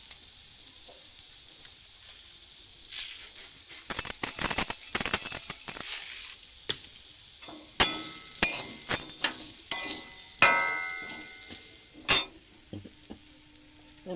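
A coconut and sugar kheer filling is stirred in a pan, with soft sizzling under scattered scraping and clinking of the spoon against the metal, quiet at first and then busier, with sharper knocks in the middle.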